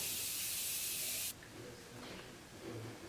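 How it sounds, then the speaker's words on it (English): A fine pressurized spritz of Morphe Continuous Setting Mist onto a face, a steady close hiss lasting about a second before cutting off, followed by quiet room noise. "I'm going to set this all into place with my Morphe Continuous Setting Mist."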